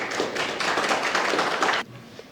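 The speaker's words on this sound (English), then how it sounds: "Please give them as well a round of applause" An audience applauds the hosts who provided the event venue free of charge, a short dense burst of clapping that stops abruptly.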